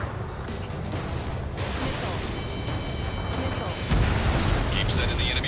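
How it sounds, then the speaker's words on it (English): An anti-ship missile launch in the jet combat game Ace Combat 7: Skies Unknown, heard as a dense, continuous booming, rumbling roar with a sharper burst near the end, layered under radio chatter from voices. "Anti-ship missile launched. Okay, lock acquired. Firing."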